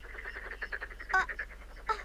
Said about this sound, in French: Ça, c'est un crapaud buffle, ce n'est pas méchant.